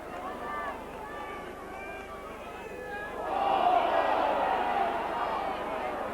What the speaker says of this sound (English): The crowd shout for a forward pass, but the referee says play on.